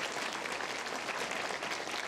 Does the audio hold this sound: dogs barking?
no